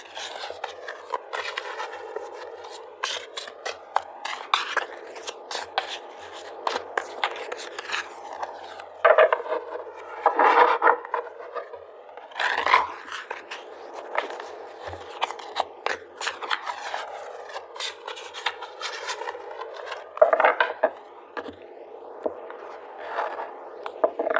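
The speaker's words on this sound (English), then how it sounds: "So let's just pull some more cards here." Tarot cards shuffled and pulled from the deck make a continuous papery rasp and rub, with brief sharper snaps of cards slapping together, close up and fairly loud with no voice.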